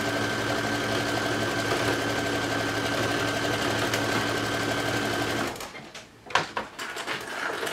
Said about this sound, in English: I find swim to last better if I stitch it with a sewing machine.